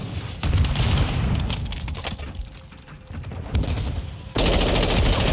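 Gunfire and a grenade explosion in Modern Warfare II multiplayer, sustained automatic fire rattling through a busy battle mix, then a sudden loud broadband burst near the end.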